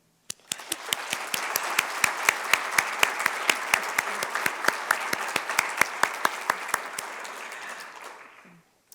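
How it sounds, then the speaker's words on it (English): Audience applause at a book release for the 175th anniversary of Punahou School: a steady, close burst of many hands clapping, with sharp individual claps standing out, sustained for about eight seconds before stopping abruptly. "I hope that you can join me in just thanking them with applause for all that they've done"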